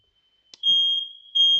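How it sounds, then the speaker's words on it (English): A home fire alarm goes off with a near, piercing electronic tone, sounding in two long sustained bursts after a brief click, with no talk over it. "In this case, my fire alarm goes off."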